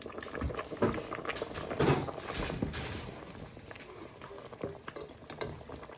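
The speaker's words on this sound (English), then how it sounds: "Then just give that a little bit of a stir in" Chicken stirred in a pan with half a lemon squeezed in for a Greek chicken dish, a soft continuous sizzle and scraping with a few louder stirring bursts, close and steady, no voices.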